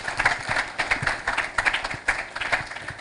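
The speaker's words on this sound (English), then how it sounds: "I think we need to give him a bigger clap." Audience applause at a China-Kenya diplomatic anniversary event, a short burst of many hands clapping in a rhythmic, somewhat uneven patter at moderate distance.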